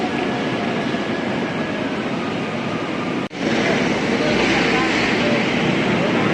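An MRT train rumbles past overhead near EDSA Station in Pasay, a steady loud roar of rail noise with a brief dip midway before the rumble swells again; no one speaks.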